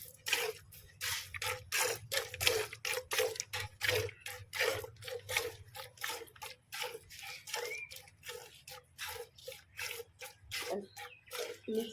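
Streams of cow's milk squirt rhythmically into a bucket during hand milking, one after another in a steady pulsing beat, close and soft over a low background hum.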